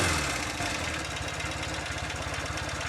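A Royal Enfield Interceptor 750 motorcycle engine idles at about 1000 rpm, a steady close, loud rhythmic throb with fast regular ticking, one carburetor slide slightly sticky.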